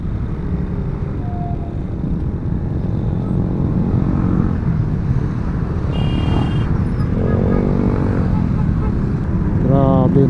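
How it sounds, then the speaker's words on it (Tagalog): Dense morning traffic of many motorcycles and cars on a service road from Cavite to Manila, a continuous engine drone with passing bikes and occasional horn beeps, close and steady throughout. "Service road kasi to guys, kaya daming motor."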